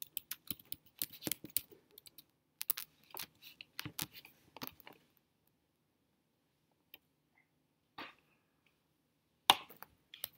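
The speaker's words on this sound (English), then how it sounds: "I'll type it in." Someone types on a computer keyboard in a quiet room. Faint clusters of quick clicks come in short runs, separated by pauses, with a couple of isolated taps near the end.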